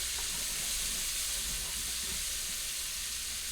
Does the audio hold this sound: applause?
no